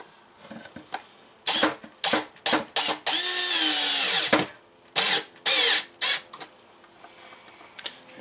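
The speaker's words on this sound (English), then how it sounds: "We got one more cable clamp here, and we'll just go ahead and get that fastened down." A cordless power drill drives a fastener to secure a cable clamp during shore power wiring of a teardrop camper, with several short whirring bursts, one longer sustained run, then more brief pulses, close and loud with no talking.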